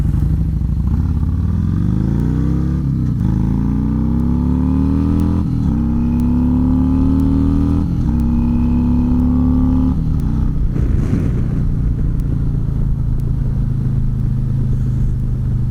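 A BMW motorcycle rides past in traffic, its engine rising in pitch through repeated gear-driven climbs and then fading into a steady traffic rumble, loud and close throughout with no talk.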